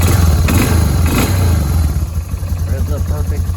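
Small Yamaha Bear Tracker 250 ATV engine with a freshly rebuilt carburetor revving up and settling, loud and close, with throaty pulsing rhythm; someone talks over it.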